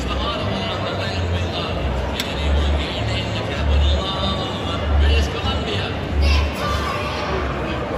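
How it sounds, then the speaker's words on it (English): A packed crowd murmurs inside a political rally venue, a continuous babble of many voices with low rumbling swells and occasional louder calls. "Look at this crowd."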